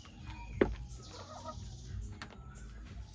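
Village chickens clucking while eating feed, a few short nearby clucks and one sharper call standing out over faint background rustle.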